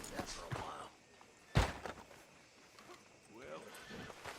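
A horse's hooves clip-clop faintly in Red Dead Redemption 2, a few soft hoof falls and a sharper knock under talking voices.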